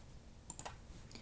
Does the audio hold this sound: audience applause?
no